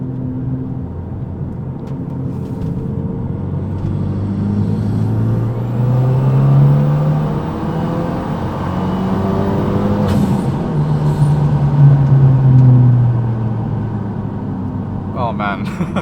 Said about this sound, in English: Constantly crackling, and this car is so loud without the door inserts.